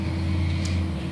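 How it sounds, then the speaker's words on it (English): A big truck rumbles past on a fairly busy road, a low, heavy, steady engine drone close by for a brief moment. "as we have a big truck coming through"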